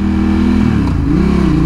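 Close, loud engine of a 2011 Ducati Hypermotard 796 motorcycle revving, a throaty twin-cylinder drone that dips and then climbs again in pitch across under two seconds, with no speech.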